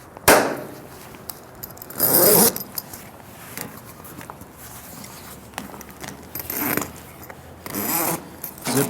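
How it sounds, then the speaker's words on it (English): Zippers on a mattress topper cover being pulled closed, with several long rasping zips and shorter scrapes spread over the stretch, close and loud without any talking. "Zip the zippers first"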